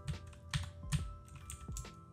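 Computer keyboard typing in quick, uneven bursts of soft clicks, close and fairly quiet, with no talking.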